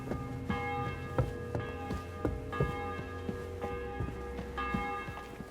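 Several church bells peal in overlapping rhythm within the medieval game Kingdom Come Deliverance 2, each strike leaving long ringing tones, a steady clangor heard alone without voices.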